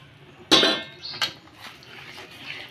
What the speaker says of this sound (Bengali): এখন আমি বাদাম মিশিয়ে দেব।